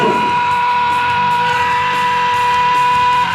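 A man lets out one long, loud, sustained scream at a steady pitch, held for several seconds.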